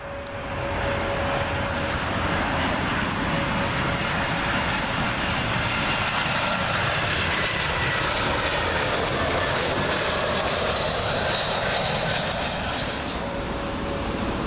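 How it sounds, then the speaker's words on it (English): A British Airways Airbus A319 from Newcastle passes low on approach to land at Heathrow, a loud continuous jet roar with a steady whine that swells and holds for the whole pass before easing slightly at the end. "Next in to arrive, British Airways A319. This one from my friends up in Newcastle."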